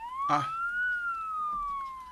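A police siren wails in a steady rising-and-falling tone, loud and close throughout, with a brief sharp burst near the start and no voices.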